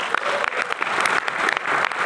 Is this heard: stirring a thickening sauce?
no